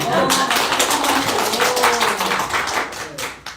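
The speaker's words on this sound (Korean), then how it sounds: "박수 한번." Brisk audience clapping at a small bookshop book concert with a Korean author, a short loud burst of many hands that tapers off near the end.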